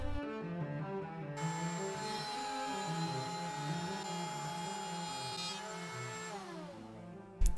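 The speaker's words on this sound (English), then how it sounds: "To fit the bottom and the top in, I made some rabbets on the router table." A router spins up on a router table, cutting rabbets into wooden speaker-case panels. A steady, close, high motor whine with layered harmonics runs without a break, and the pitch sags slightly near the end.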